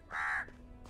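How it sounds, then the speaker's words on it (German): A single crow caw rings out, short and fairly clear, over faint background ambience in the video game Elex 2. "Ich höre eine Krähe."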